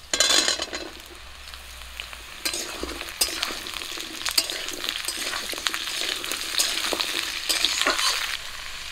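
Papaya and potato pieces fry in hot oil with reddened onion and slit green chili in a rural village kitchen, a steady close sizzle broken by repeated scraping stirs of a spatula against the pan.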